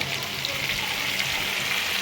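Drumstick pieces, potato and eggplant fry steadily in a pan, a continuous close sizzle and crackle with no pauses, nobody speaking over it.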